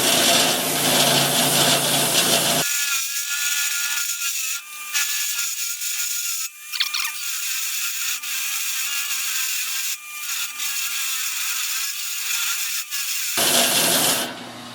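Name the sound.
sand flea drum sander smoothing wooden pumpkin rocker edges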